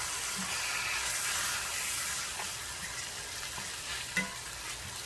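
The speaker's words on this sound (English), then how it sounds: "This is the 3rd Porterhouse steak we're putting in here." A Porterhouse steak sizzles steadily in a hot pan, a continuous close hiss with a couple of small pops and a brief clink.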